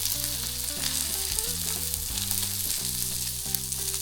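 Salmon fries skin-side down in a hot pan, a steady crackling sizzle that runs continuously under prominent background music.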